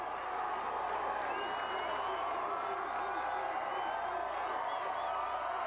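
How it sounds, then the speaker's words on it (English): A large crowd roars and cheers at the 1992 Toronto Blue Jays World Series parade, a sustained, fairly distant wash of shouting and whoops with faint scattered clapping and no break. "As the crowd gets a glimpse of a different player, you hear a roar, just a roar."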